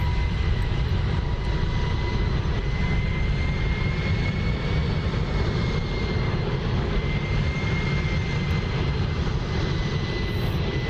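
An F-22A Raptor taxiing in the DCS combat flight game gives a steady, loud jet-engine roar with a high whine on top, continuous and unbroken throughout, with no talk.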